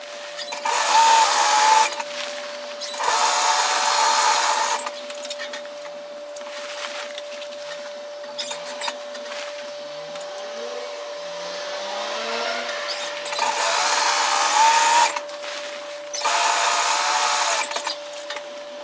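A home sewing machine running a gathering thread along a dress skirt from side seam to side seam, heard as several bursts of fast whirring stitching separated by quieter pauses, close and fairly loud.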